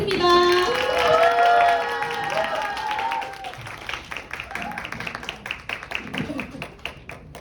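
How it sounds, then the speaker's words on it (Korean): Crowd of university students and young people applauding to welcome a politician onto a rally stage, loud clapping at first that thins and fades into scattered claps, with some voices and music-like tones mixed in. "큰 박수로 추미애 의원님을 모시도록 하겠습니다."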